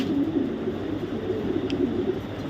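Racing pigeons, including a young 2022 foreign-bred hen, coo in a low steady murmur that fills the background continuously, with no talk over it.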